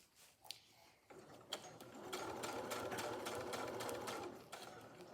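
Sewing machine stitching fabric for a project bag, a quiet rapid whirring run with a few clicks before it starts, then continuous close stitching for several seconds.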